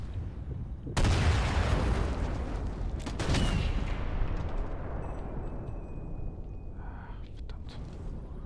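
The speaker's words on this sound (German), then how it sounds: "So, der Schuss wurde jetzt gehört." Two loud rifle gunshots in Sniper Elite 4 ring out a couple of seconds apart, each leaving a long rumbling echo that slowly fades away.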